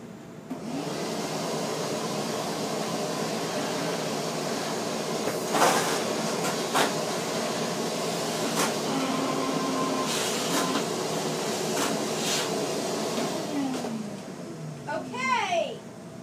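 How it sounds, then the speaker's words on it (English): A shop vacuum runs with a loud, steady, broadband whooshing roar that holds throughout, then winds down near the end. "we're gonna start the shop vac"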